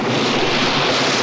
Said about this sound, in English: It looks like a flash flood.